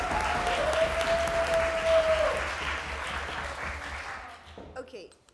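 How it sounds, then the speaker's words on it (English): Warm applause from a debate audience, steady and full-bodied, clapping continuously for several seconds before thinning out and fading near the end. "Warm round of applause."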